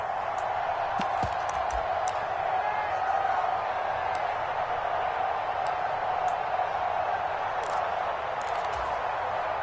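A stadium crowd in a video game football match keeps up a steady, dense roar for the whole stretch, with a few faint clicks scattered over the continuous wash of noise.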